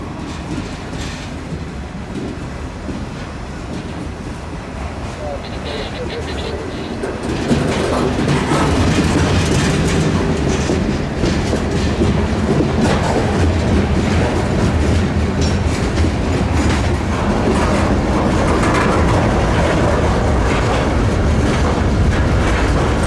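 A freight switch job passing through Sanford, Florida, at first a moderate rumble that jumps to a loud, close roar of wheels clattering on rails and continues steadily.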